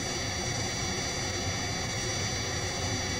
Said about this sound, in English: Let's listen to how this jet noise can be altered when parts of it are filtered or removed.